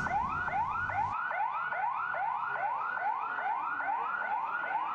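A wailing ambulance siren at a school earthquake and tsunami drill sweeps up and down in rapid repeated cycles. It is steady and fairly close, with some low rumble at the very start.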